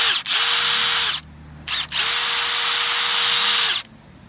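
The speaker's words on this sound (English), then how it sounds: "Wow, that is a powerful impact driver." A Milwaukee One-Key impact driver running on setting 4, freshly unboxed: two close, loud bursts of high whirring, the first about a second long and the second nearly two seconds, with a short blip between.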